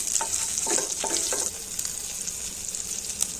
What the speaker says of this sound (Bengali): এবারে এগুলো একটু ভালো করে ভেজে নিতে হবে